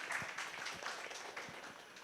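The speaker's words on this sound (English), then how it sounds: "A huge round of applause for him." A crowd applauds a guest introduced on stage at an urban forest and climate change campaign launch, a short, faint patter of scattered clapping.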